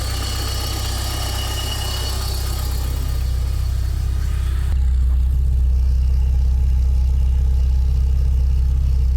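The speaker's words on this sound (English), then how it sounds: "Only the bad alternator." A Porsche 944 engine, freshly started after more than 20 years off the road, idles steadily with a bad alternator; the close, even rumble shifts to a deeper, smoother tone about halfway through.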